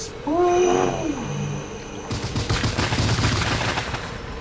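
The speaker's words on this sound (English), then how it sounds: "So much fun launching fireworks." Fireworks launched in the game Bioshock: a brief tonal whistle-like wail first, then a sudden loud burst of crackling, hissing blasts that keeps rumbling on densely to the end.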